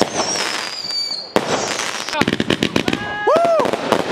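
A Halloween fireworks show goes off in a small-town street: loud, close bangs, crackling bursts and whistling rockets, with excited voices shouting between the blasts.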